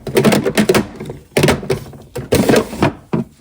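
A makeup vanity drawer is handled in a series of close, loud wooden thunks and sliding knocks, in clustered bursts with short pauses between them.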